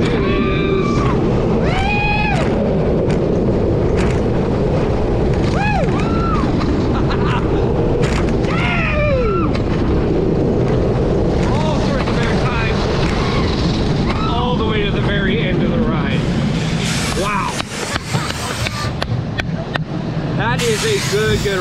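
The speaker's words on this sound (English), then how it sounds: "Again, Jersey Devil Coaster, Rocky Mountain Construction, single rail roller coaster, and it lives up to the hype." Front-row ride on the Jersey Devil Coaster, a Rocky Mountain Construction single rail roller coaster at Six Flags Great Adventure, with loud continuous wind roar and rumbling track noise throughout, under excited voices and screams.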